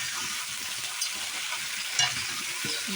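Potatoes fry in a pan with tomato and are stirred, making a steady, close sizzle with light spatula scrapes at about one-second intervals.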